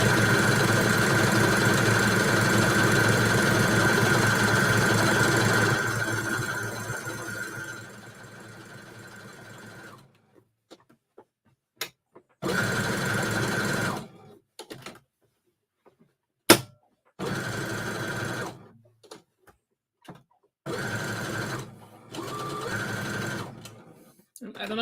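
Sewing machine stitching along bendy lines on a single-piece craft project, a steady loud running hum for about ten seconds, then short intermittent bursts with pauses between them.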